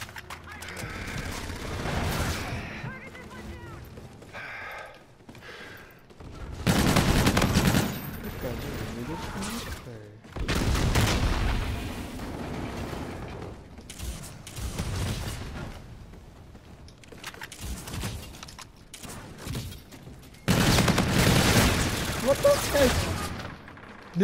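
Gunfire in a Call of Duty Infinite Warfare multiplayer match, with repeated bursts of automatic weapon fire in loud clusters separated by quieter stretches and occasional booms.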